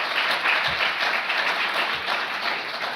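Audience at a book discussion applauding, a full, continuous round of clapping that holds steady from start to finish.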